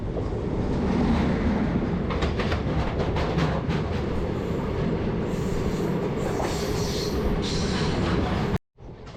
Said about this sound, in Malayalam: തിരുപ്പൂരിൽ നിന്ന് നമ്മുടെ ട്രെയിൻ അങ്ങനെ എടുത്ത് മുമ്പോട്ട് പോകുന്തോറും